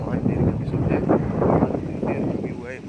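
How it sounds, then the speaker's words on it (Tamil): Gusty outdoor wind buffets the microphone beside a village temple ringed by neem trees, a dense, continuous roar that rises and falls over about three seconds. "காற்று நல்லா அடிக்குதுங்க, சூப்பராக இருக்குது."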